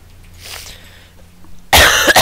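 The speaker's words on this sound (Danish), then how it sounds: "Så først så vil jeg lige hoste." A single person lets out a loud, harsh cough burst near the end, close and abrupt after a stretch of quiet room noise.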